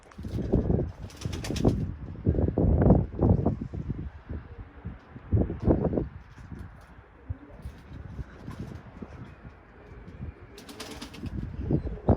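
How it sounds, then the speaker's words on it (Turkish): Bursts of flapping wings from birds taking off, several quick flurries separated by quieter stretches with faint outdoor ambience. "Kuşlar bayağıdır da uçuyorlar."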